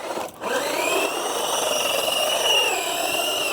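A Hosim S911 RC truck driving in snow, its electric motor whining steadily at close range with a rising and falling pitch after a brief dip at the start.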